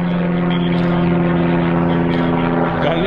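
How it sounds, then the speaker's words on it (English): A brand-new RV-8 propeller airplane runs its engine in a loud, steady, close drone with a strong tonal buzz and no pauses. "That's a new aircraft, correct? Brand new airplane."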